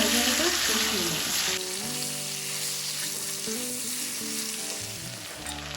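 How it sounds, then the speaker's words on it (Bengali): Chicken pieces sizzle and fry in hot oil with a pinch of turmeric powder for a stew, a steady loud crackle with stirring running throughout, no talking. "তেলের সাথে ভাজাটা কষিয়ে নেব"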